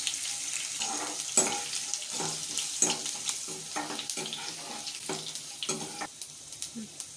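Crushed garlic added to hot oil where mustard seeds have already popped, frying with steady sizzling, clinking stirring strokes and occasional spatters, close by with no talk.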